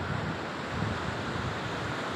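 Sea waves breaking on the beach at Dwarka make a continuous broadband roar of surf mixed with wind buffeting the microphone, loud and unbroken throughout, with no one speaking.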